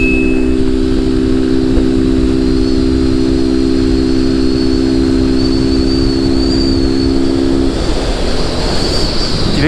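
A Honda Fan 160 motorcycle being ridden, its engine holding a steady loud drone under strong wind rush for most of the ride before the tone drops away near the end.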